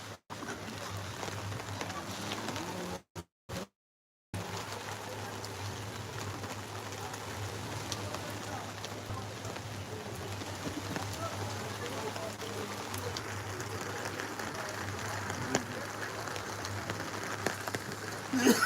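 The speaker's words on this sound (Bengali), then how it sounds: "এখন তার মধ্যে বৃষ্টি পড়ছে খুব জোরেই" Heavy rain falls during a low-pressure spell in South Bengal, making a continuous dense hiss that drops out briefly, with a voice talking over it.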